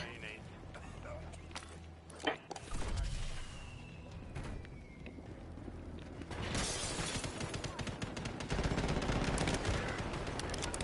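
Gunfire and sniper shots in a video game crack out in bursts, with a sharp impact near the start and denser shooting building toward the end, heard under voice chat.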